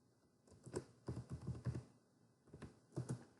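Computer keyboard being typed on in a quiet room, short bursts of crisp key taps in irregular clusters with pauses between, close and fairly soft.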